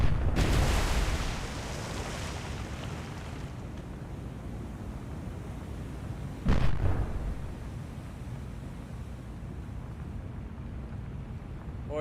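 Naval guns fire in the War on the Sea game, with two heavy blasts about six seconds apart. Each one booms and then rolls off into a long, rumbling roar of wind and sea, and no one speaks.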